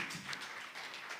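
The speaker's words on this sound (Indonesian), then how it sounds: "Boleh berikan tepuk tangan buat Tuhan kita." Church congregation at a Sunday worship service in Bali applauding, brief scattered hand clapping heard faintly at a distance, loose and uneven.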